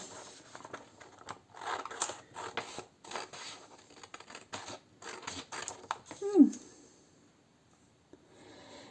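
Scissors snipping strips of paper into grass blades, a quick series of soft close cuts and rustles in irregular bursts, followed by a brief sharper scrape and then near silence.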